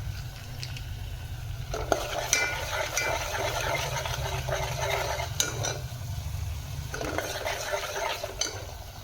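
Paneer browning in a hot pan with mixed chole masala spices, a steady sizzle with scraping and stirring clinks of a spoon against the pan running throughout, fairly close, with no talk.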